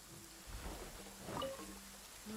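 Steady rain falls in Genshin Impact as a faint, even hiss, with a soft low rumble and a few quiet tonal game sounds layered in; no voices.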